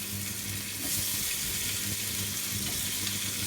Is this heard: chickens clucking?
no